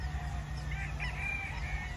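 A rooster crows at close range, a drawn-out call rising over steady low background noise, with no talk.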